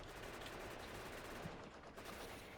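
Continuous rapid tank gunfire in Factorio, a dense steady rattle of shots filling the whole stretch, fairly quiet and unbroken with no talk.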